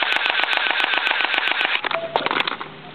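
Airsoft gun rapidly firing BBs at bugs, a fast burst of sharp snapping shots that slows to a few scattered pops, close and loud.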